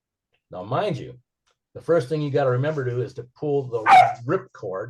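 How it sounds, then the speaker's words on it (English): Dogs bark now and then in the background of a room, faint and brief beneath a man giving a speech, with one louder yelp near the end of his talking. "Excuse my dogs in the background."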